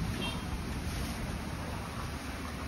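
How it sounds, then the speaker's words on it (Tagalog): Steady wind buffets the microphone with a broad, continuous rumble and hiss, no other distinct sounds standing out. "Medyo mahangin."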